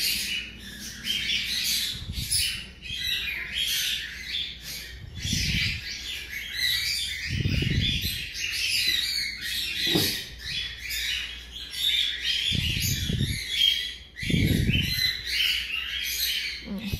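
A pet canary chirps and trills steadily at close range, with bright, rapid tweets running throughout and a few soft low thumps of movement underneath. No one speaks.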